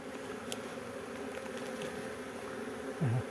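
Honeybees buzz steadily at a beehive entrance, a dense close drone of many wings, with a few brief louder passes near the end.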